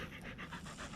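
A dog pants rapidly and rhythmically at close range, each breath a soft, airy huff in a quick steady series, with no voices.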